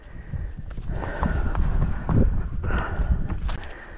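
A horse walks outdoors under a rider, its hooves clopping in an irregular rhythm through steady wind noise, with a few soft snorts and no talk.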